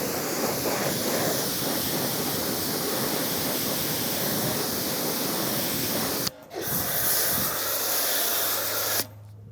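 Active 2.3 pressure washer blasting water in a steady, loud broadband hiss that runs almost the whole time, cutting out briefly twice before resuming.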